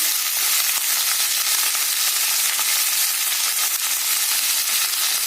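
Carrots, beans, capsicum and peas fry in a kadai, giving a dense, even, bright sizzling hiss that holds at steady loudness from start to finish, heard close with no voices.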